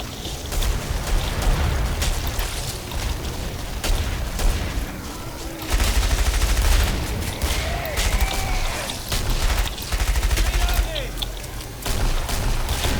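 Gunfire in a co-op shooter video game, with bursts of shots and booms in a busy mix while players talk over it.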